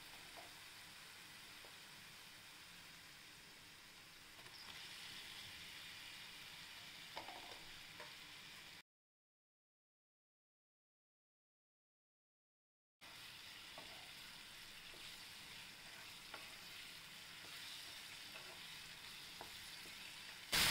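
Ground green chillies fry in oil for a green paneer gravy, giving a faint, steady sizzle that drops to silence for a few seconds midway and then resumes, with no voices.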